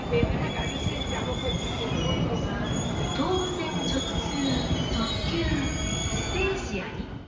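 A Tobu Nikko train travelling from Shinjuku to Nikko rumbles along the rails with a steady low roar, and faint wheel squeals rise and fall throughout the ride.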